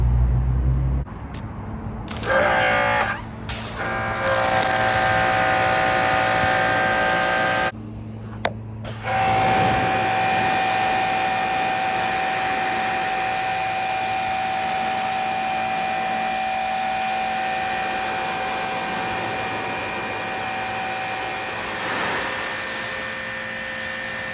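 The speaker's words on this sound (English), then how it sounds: "Let's get the pressure washing." A pressure washer sprays down a Honda Civic with a steady, loud motor drone and hissing water jet. The spray runs almost continuously, with a couple of brief cut-offs early on and then an unbroken stretch.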